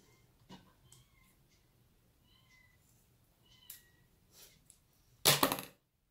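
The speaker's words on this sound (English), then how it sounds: "One of my kittens is having a wee moan." A few soft kitten meows, high and faint, scattered over quiet, ending with a brief louder burst of noise.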